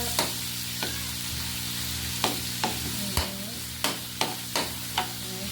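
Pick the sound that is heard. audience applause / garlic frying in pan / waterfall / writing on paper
garlic frying in pan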